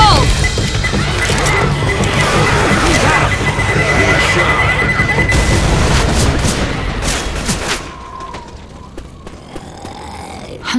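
Thrown explosive in Left 4 Dead, a loud chaotic stretch of crashing impacts, gunfire and grunting that tapers off into quieter ambience, with shouted voices in the mix.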